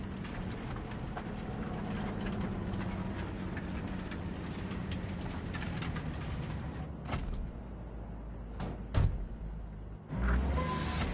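A train in the video game Cyberpunk 2077 rumbles steadily and loudly up close, a continuous low mechanical roar broken by a few sharp clanks and bangs near the end.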